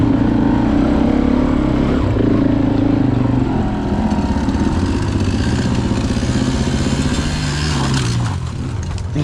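A 1984 100XL dirt bike engine runs loud and close, a steady buzzing two-stroke drone with small rises and dips in pitch throughout, with no talking.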